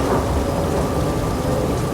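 A cartoon thunderstorm effect combines a loud, dense wash of heavy rain with deep rolling thunder. It plays steadily and close, with no voices over it.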